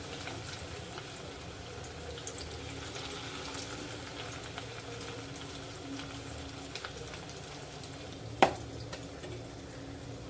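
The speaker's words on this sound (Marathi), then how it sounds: "दोन ते 3 मिनिटं फ्राय करून घेऊया." Small fritters of tiny kolim shrimp fry in oil over a low gas flame, a steady soft sizzle and bubbling hiss throughout with one brief clink near the end.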